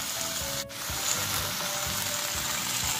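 Raw mango pieces and onions fry in a hot pan for a curry with eggs and dry fish, giving a steady dense sizzle with a brief dip and soft low stirring thuds underneath, no voices.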